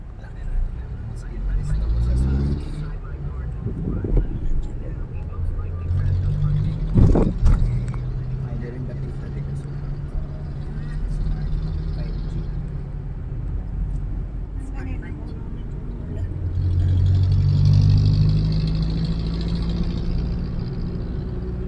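Street traffic in Manila on the way to Quiapo church, with cars idling and passing under a steady engine drone and a louder pass near the end, while voices talk over it.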